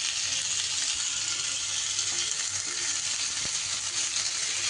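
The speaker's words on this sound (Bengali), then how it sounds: "চালটা দিয়ে কিন্তু খুব সুন্দর করে নাড়াচাড়া করে চালটাকে ভেজে নিতে হবে" Washed Gobindobhog rice fries and is stirred in a pan, giving a steady close sizzle with occasional scraping of the stirring spoon and no voices.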